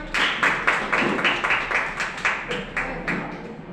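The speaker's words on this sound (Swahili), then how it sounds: "Apigiwe makofi tafadhali" Audience applause in a classroom at County Girls High School in Nairobi, a steady rhythmic group clapping with a dozen or so distinct beats at a regular pace, moderately close and without talk.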